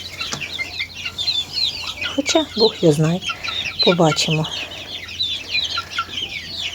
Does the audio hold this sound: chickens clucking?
yes